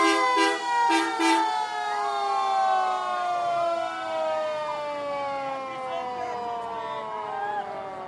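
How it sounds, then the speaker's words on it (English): A vintage fire engine's siren wails in a long, slowly falling tone at a St. Patrick's Day parade in South Boston, loud and close, with a few brief sharp blasts at the start. "Look at this vintage fire engine"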